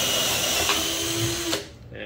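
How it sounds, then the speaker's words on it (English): A MAIBERG cordless drill driver bores through red oak, its steady motor whine running for about a second and a half before cutting off abruptly, leaving quiet room noise. "So drilling through this"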